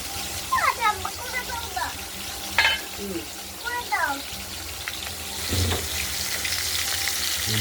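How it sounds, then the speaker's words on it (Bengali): Catla fish pieces sizzle in hot oil with a steady frying hiss; a few chirpy bird calls ring out over it early on. "আমরা মাছগুলোকে প্রথমে একটু ভেজে নেব।"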